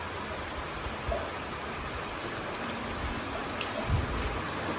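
Heavy rain pours through downpipes behind a newly built patio in a steady, hissing wash of water with faint splashes and no voices.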